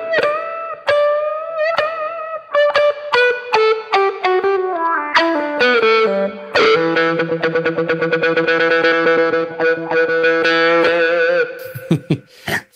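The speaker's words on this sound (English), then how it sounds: "There's a touch wah that you can add to this sound from the effects section." An electric guitar played through a NUX Mighty Air practice amp with touch wah: a descending run of plucked notes, each with a vocal sweep, then sustained strummed chords ending in a scrape.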